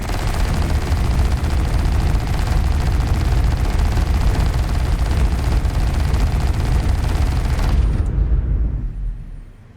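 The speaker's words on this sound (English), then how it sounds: "having 128 railguns firing out like that is really the kicker here" A massive barrage of 128 railguns fires at once in a video game, a dense, loud, unbroken roar of rapid shots lasting several seconds before cutting off and fading quickly.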